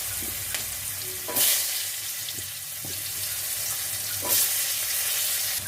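Steady sizzling of potatoes frying in a pan, with occasional scrapes and clinks of stirring and a couple of brief louder hisses.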